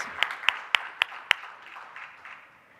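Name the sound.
applause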